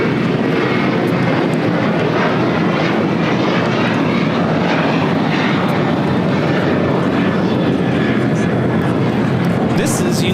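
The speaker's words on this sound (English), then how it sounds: "Next takeoff here on the south side is JSX flight 1066, heading to Cabo San Lucas on the ERJ 145 LR." A JSX Embraer ERJ 145 LR jet takes off from the south side at LAX, a loud, sustained engine roar that fills the scene while a voice talks over it.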